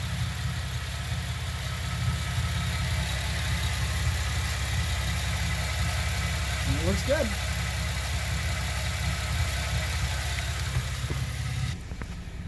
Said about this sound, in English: while I've got the car running